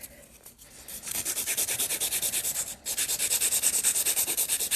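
A hand file rasps steadily against a hard gel nail being shaped into a tapered square, quick regular back-and-forth strokes close up, with a brief pause midway.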